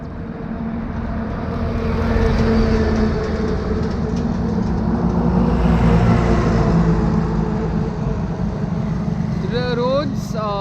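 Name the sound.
truck passing by on the road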